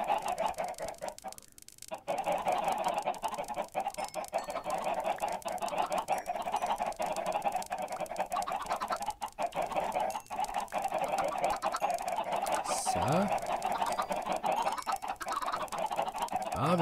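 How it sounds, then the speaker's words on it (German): Chickens cluck and squawk through a steady, dense barnyard din in Minecraft, the fowl calls continuous and fairly loud from start to finish, with a brief dip near the second mark. "Wir haben unsere glücklichen Hühner."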